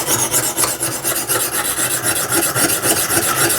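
A knife edge is drawn steadily over a Lansky sharpening system stone, with continuous close rasping and grinding strokes in an even back-and-forth rhythm and no voices.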